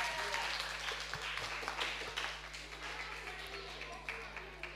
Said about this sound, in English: give Miss Saskilly another round of applause